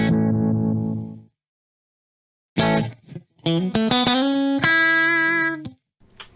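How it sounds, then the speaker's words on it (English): Sound processed through the Loophole LEX TAC plugin, heard as bursts of distorted, chorused tones and tight stuttering notes separated by a silent gap, close and alone. "I'm using a plug-in which is the LEX TAC by Loopholing."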